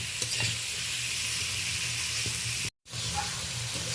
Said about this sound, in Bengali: এই দেখুন পেঁয়াজ কাঁচা লঙ্কা ফোড়নের সাথে চিংড়ি মাছটা ভালোভাবে আমি কষিয়ে নিয়েছি